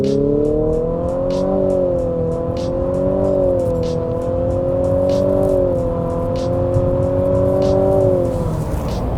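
A 2022 Infiniti QX55 with its 2-liter engine (268 horsepower) accelerates steadily, its loud, close drone rising in pitch through several gear shifts over about nine seconds, with no talking.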